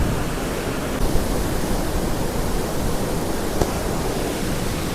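Rushing water of a river swollen by flooding, the flow muddy and covering the large rocks in the middle of the channel; a steady, loud, broadband roar with no talk.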